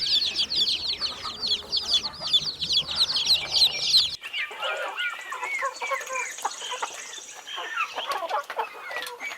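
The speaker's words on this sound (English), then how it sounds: "Chicks." Young chicks cheep in a dense, rapid chorus of high peeps, shifting partway into a softer, more scattered mix of chirps and peeping from a small farmyard flock.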